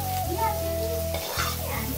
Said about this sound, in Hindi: इसको प्याज को हम लोग फ्राई कर लेते हैं। अब तेल बहुत ज़्यादा गर्म है